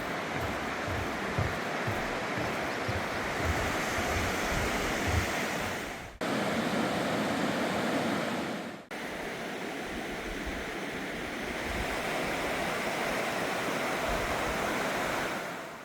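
A mountain valley stream in Seoraksan rushes steadily over rocks, a dense, continuous wash of water close by with no voices, broken by two brief dips.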